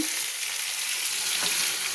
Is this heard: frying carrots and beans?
yes